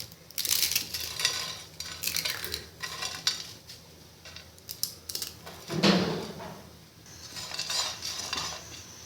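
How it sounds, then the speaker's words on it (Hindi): Instant Maggi noodles crushed by hand and dry-frying in a lightly oiled pan, with close, irregular crackling, rustling and clinks of a utensil against the pan, quiet with small bursts. "हाथ से ही मैगी को क्रश करके थोड़ा सा फ्राई कर लेना है"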